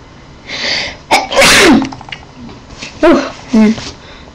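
A loud sneeze bursts out, followed by a couple of shorter sneezes or sneeze-like snorts, with a voice making noises in between.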